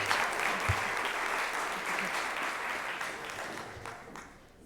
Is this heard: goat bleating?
no